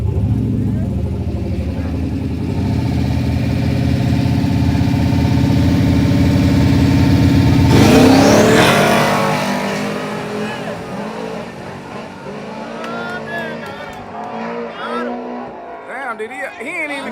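No-prep drag race cars at a track, engines idling and revving loudly before one car accelerates off the line with a rising roar, while people talk excitedly nearby.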